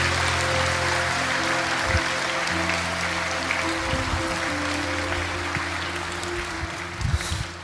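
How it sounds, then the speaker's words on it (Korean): An audience at a church service claps to welcome a pastor to the stage, a steady wash of applause that holds at an even level throughout, with a low hum beneath it. "우리 박형은 목사님 나오실 때 큰 박수로 맞아주시기 바랍니다"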